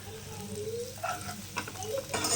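Chopped onions fry in a pan for a quail pepper fry, with a steady close sizzle broken by a few scraping stirs of a spatula, and no talking.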